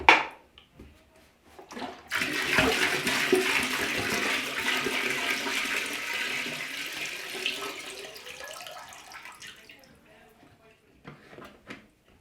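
Waste from a Thetford 135 portable toilet pours into a dump station in a steady gushing, splashing rush lasting about eight seconds, framed by brief handling clunks and someone speaking before and after.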